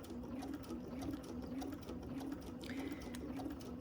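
A domestic sewing machine stitches vinyl for bagmaking, its steady, even needle rhythm running continuously at a moderate pace, close and clear with no talking.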